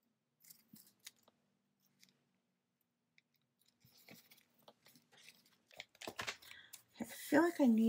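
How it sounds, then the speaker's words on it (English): Scissors snip through a paper book page to cut out a butterfly shape, with quiet intermittent cuts building to louder, denser snipping and crinkling near the end, close up; a voice speaks briefly. "I'm going to cut out this butterfly."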